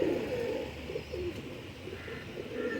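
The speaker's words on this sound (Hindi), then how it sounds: "बहुत प्यारे कबूतर हैं दोस्तों ये" Teddy pigeons coo in soft, repeated rolling calls close by, a few phrases overlapping against light background noise.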